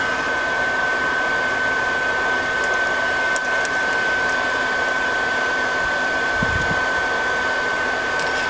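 A blacksmith's forge runs steadily while metal heats for a horn candle holder, giving a constant close roar with a sustained tone and a few faint clinks over it.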